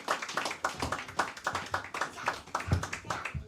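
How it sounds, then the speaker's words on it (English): A group claps in unison during a live feast gathering in Durham, NC, giving a run of about a dozen sharp, regularly spaced hand claps. "get his brother a hand clap real quick"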